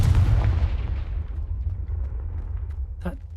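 A Confringo blasting spell explodes in the video game Hogwarts Legacy. It starts as a loud, deep rumbling burst that slowly dies away into a low roar, and a short sharp crack follows near the end.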